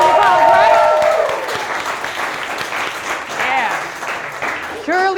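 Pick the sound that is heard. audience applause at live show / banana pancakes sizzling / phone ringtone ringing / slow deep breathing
audience applause at live show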